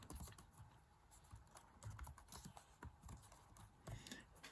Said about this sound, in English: I want to type in Mardi Gras